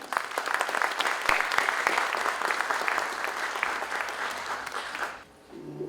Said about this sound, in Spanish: Voy a pedir que recibamos con un fuerte aplauso al doctor Gustavo Ayala Milán.